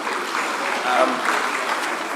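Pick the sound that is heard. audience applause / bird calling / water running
audience applause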